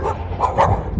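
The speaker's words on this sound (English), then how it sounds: "And ubiquitous barking dogs at hikers." A dog barks at hikers on a trail near a small town, giving two or three sharp, fairly close barks in quick succession without any speech.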